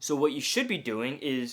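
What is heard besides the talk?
No distinct noise like a dog, phone or traffic.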